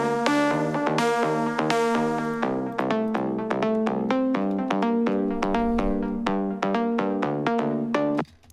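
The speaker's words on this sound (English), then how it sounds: "The next part is the main lead, which is this pluck right here." A bright synth pluck lead in a deep house track plays a quick, rhythmic melody of short repeated notes over a sustained chord layer, clear and continuous before cutting off.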